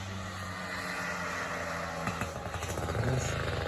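A dirt bike engine drones steadily nearby, its revving pitch shifting as it rides through, loud and continuous with no talk over it.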